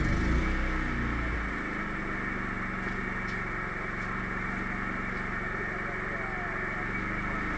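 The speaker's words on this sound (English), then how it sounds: "so the generator is running, still not bad with nothing hooked up" A portable generator running with nothing plugged in, a steady loud engine drone with a constant mechanical hum and whine, unbroken from start to finish.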